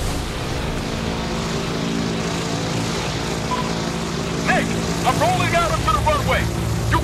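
A steady low aircraft engine drone from a plane rolling onto a runway in a video game, continuous throughout, with voices and chirpy whistling sounds layered over it in the second half.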